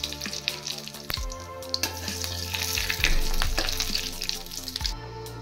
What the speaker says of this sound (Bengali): এবার আমি শুকনো লঙ্কা, তেজপাতা আর গোটা জিরে দিয়ে দিচ্ছি